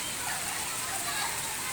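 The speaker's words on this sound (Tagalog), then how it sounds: "Ang lakas ng ulan eh." Heavy rain pours down outdoors as a dense, even hiss of falling water, loud and unbroken across the short stretch.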